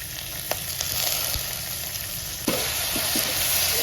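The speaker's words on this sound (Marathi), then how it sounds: "आणि आता मुगाची डाळ टाकायची जे भिजवलेली डाळ आहे ना ती टाकायची" Soaked moong dal tipped into hot oil in a frying pan, a steady close sizzle with a few sharp bursts and crackles as the wet lentils hit the pan and are stirred.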